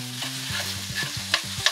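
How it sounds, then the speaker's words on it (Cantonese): Flat rice noodles for beef ho fun tossed and stirred in a non-stick wok, with soft scraping strokes and a light sizzle over a low steady hum, close and moderately loud for under two seconds. "我哋盡量咧將個河粉係將佢散佢撩開佢啦"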